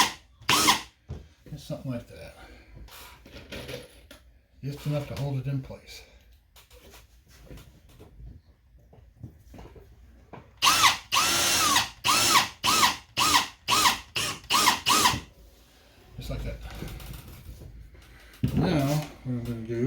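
A power drill drives a screw partway into drywall near a shower connection, with a quick burst of short whirring pulses in the middle, framed by someone talking close by.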